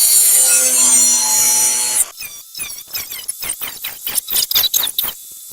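Hand saw cutting through the inner sill panel of an MG TF along a marked line, a rapid run of short rasping strokes close up, following a brief stretch of other workshop noise.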